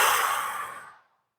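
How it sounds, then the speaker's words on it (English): A single deep breath during a stretching exercise, a close, airy exhale like a sigh that fades away after about a second, followed by silence. "Take a big breath in."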